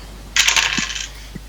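Dice dropped onto a table for a tabletop roleplaying game make one quick, bright clattering tumble that rattles for under a second and then stops. The sound is close and alone, with no voices over it.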